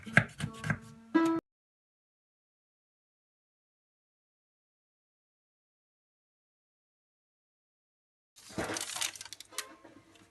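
Knife cutting around the edges of a sour cream cake in its baking form, short close scraping and clinking bursts at the start and again near the end, separated by a long silence.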